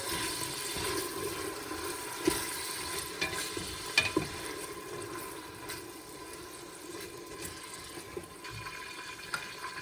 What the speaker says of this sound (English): I'm going to put a stick of butter in there. Let that actually be part of the rendering process as well.